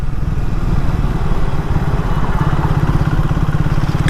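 A Triumph Speed 400 motorcycle engine lugs at low road speed in a high gear, with a close, loud, rapid thudding pulse under steady riding wind.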